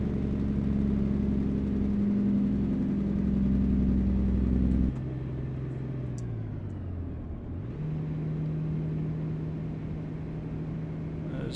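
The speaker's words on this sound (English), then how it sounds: "we're going to ride the engine brake a bit coming down the hill" A heavy truck's engine in American Truck Simulator drones low and steady, then drops in pitch and shifts to a deeper engine-brake rumble while descending a downhill grade, loud and continuous with no talk.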